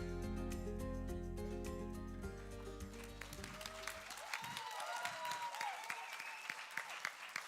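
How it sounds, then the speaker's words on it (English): An audience at a women's awards ceremony in Bengaluru breaks into applause as sustained stage music ends. Scattered claps swell into steady, moderately distant clapping for the last few seconds. "keep the applause going"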